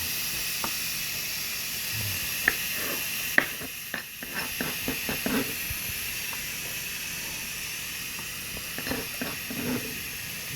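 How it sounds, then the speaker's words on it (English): Steady steam hiss from a Ninja Foodi cooker making a ham casserole, a constant broadband rush throughout with scattered light clicks and knocks over it, no talk. "You can probably hear in the video there the steam noise."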